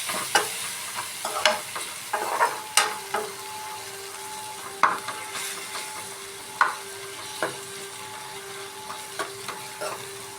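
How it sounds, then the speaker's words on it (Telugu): Egg curry frying in a pan over a flame, with a steady soft sizzle broken by repeated sharp clicks and scrapes of stirring, spaced a second or two apart, close and fairly quiet. "ఇప్పుడు ఒక 5 నిమిషాలు లో ఫ్లేమ్లో పెట్టి వేగనిద్దాం"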